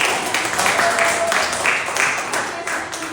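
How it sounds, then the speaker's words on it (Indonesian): A classroom group at an Indonesian accounting session receives steady applause, a dense wash of clapping from many hands held at an even level for a few seconds. "kasih tepuk tangan buat kelompok"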